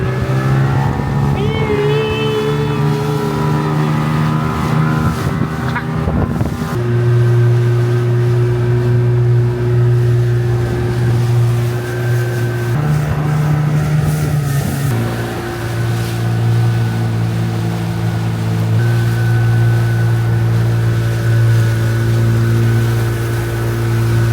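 A boat motor drones steadily as the boat approaches a sandy shore, loud and close, with a strong low hum that shifts pitch a few times as the throttle changes, running continuously with no talking.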